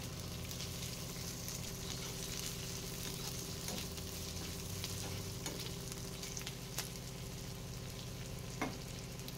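Green, yellow and red capsicum frying and being stirred in a pan for paneer chilli, a steady close sizzle running throughout with occasional scraping clicks of the spoon against the pan, no voices.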